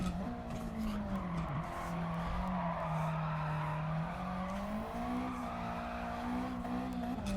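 A car in Gran Turismo 7 drifts with a sustained tire squeal over a steadily revving engine whose pitch swells and dips through the slide, loud and continuous, no talk.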